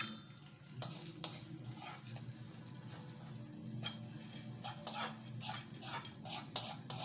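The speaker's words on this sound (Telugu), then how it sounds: "పోపుని వేసేస్తున్నాను నేను" Fried tempering being added to a mango yogurt chutney, heard as quiet scattered clinks and taps of a utensil against a bowl, growing into a run of soft rhythmic stirring strokes near the end, without talk.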